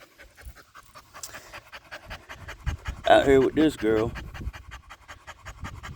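A big Saint Bernard pants steadily on a walk, quick rhythmic breaths close by, while someone talks over it in the middle.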